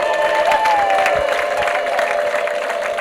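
A church congregation at an ADEPR evening worship service applauds briefly. The clapping is a steady, fairly loud wash over a faint sustained tone, with little speech.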